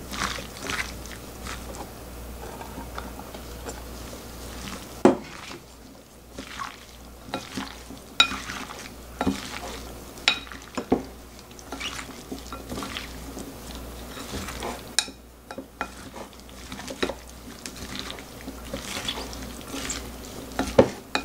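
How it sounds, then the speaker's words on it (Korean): Seasoning being mixed by hand into burdock kimchi, soft wet squishing and stirring with occasional clicks against a bowl, close and fairly quiet, with no talking. "이렇게 양념을 버무려줍니다"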